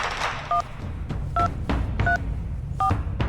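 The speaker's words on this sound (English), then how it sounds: "Who are you dialing?" Telephone keypad tones from the video game Reverse: 1999: four short, clear DTMF beeps, evenly spaced, over a low background hum.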